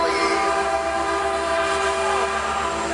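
Amtrak and Metrolink trains passing at a transit center, a loud sustained rumble with a long, steady horn blast held throughout.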